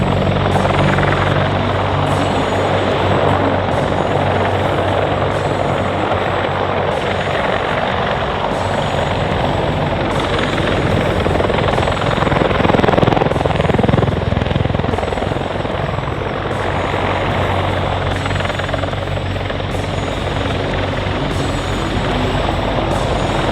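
A US Navy MH-53E Sea Dragon heavy helicopter flies a side pedal turn at a London airshow, its rotor and turbine roar loud, close and steady throughout with no voices.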